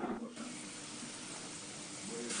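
Hot water pours steadily into a pressure cooker holding sautéed ration rice, a continuous close splashing rush that runs the whole time without a break.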